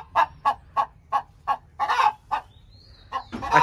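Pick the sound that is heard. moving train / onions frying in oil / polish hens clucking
polish hens clucking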